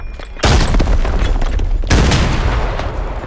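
Two heavy grenade blasts go off close by in the shooter game Arena Breakout, each a loud broadband boom with a rumbling tail, the second following about a second and a half after the first, with no talk.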